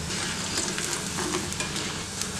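Batter for motichoor laddu frying in oil gives a steady, close crackling sizzle that runs unbroken throughout.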